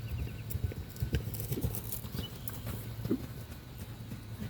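Rhythmic hoofbeats of a horse cantering over soft ground, with thuds repeating continuously under outdoor background noise.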